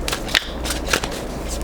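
A deck of tarot cards is shuffled by hand in a few quick, crisp riffling bursts, close and fairly loud over a quiet room.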